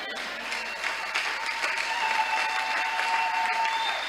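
A church congregation bursts into sustained applause, steady clapping filling the hall for a few seconds with a faint tone in the background.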